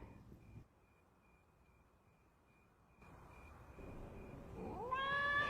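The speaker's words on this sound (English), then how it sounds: "That sounds like one of my cats outside begging to come in." A cat meowing outside at night, begging to come in: a quiet, low background hum that grows louder, with a drawn-out wavering meow rising near the end.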